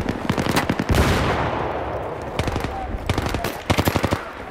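Video game gunfire in bursts of rapid automatic fire, a dense rattling volley up front, a pause, then more clipped bursts, loud and near with a faint voice beneath.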